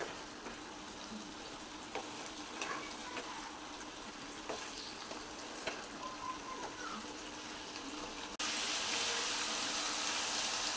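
Steady oil sizzle with scattered pops and light scraping, growing louder and brighter near the end as fried eggplant is added to the sizzling masala in the pan.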